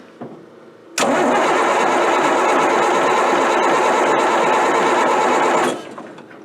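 An M35 deuce-and-a-half diesel truck engine cranks on ether, a loud, dense, steady churning roar for about five seconds that stops abruptly, with no voices.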